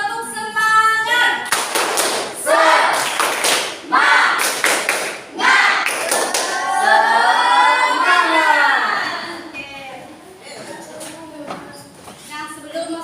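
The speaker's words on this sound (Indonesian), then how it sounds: "Satu, dua, tiga. Tepuk semangat." A classroom of pupils performs a rhythmic spirit clap, bursts of patterned group hand claps with a few thumps, loud and close, interspersed with children chanting and a teacher's voice.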